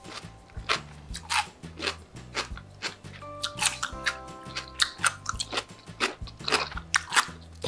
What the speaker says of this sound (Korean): 되게 아삭아삭해요.